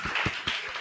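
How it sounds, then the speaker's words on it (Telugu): An audience claps in short bursts for group scores at a church Vacation Bible School quiz, with a handful of soft, spaced claps in a room. "క్లాప్స్ కొట్టండి"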